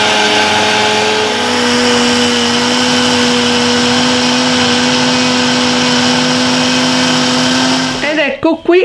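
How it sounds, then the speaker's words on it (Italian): Blender at maximum speed and full power pulverizing granulated sugar into powdered sugar, a loud, steady high-pitched whir held for several seconds before it cuts out and speech follows. "alla velocità massima, alla potenza massima, vado e frullo per 3 minuti"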